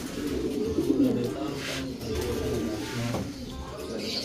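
Large racing pigeons coo repeatedly in low, throaty bursts, fairly close, over a continuous murmur of background noise, in the Philippines.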